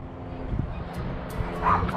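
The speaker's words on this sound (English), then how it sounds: "I know he's gonna start barking soon." Dog giving short yips and whimpering barks, moderately close, with a voice partly audible in the background.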